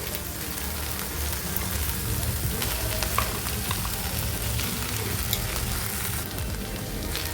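Okra pieces fry in a pan for an onion-chili okra dish, giving a steady, dense sizzle that stays close and even throughout, with occasional small crackles and no talking.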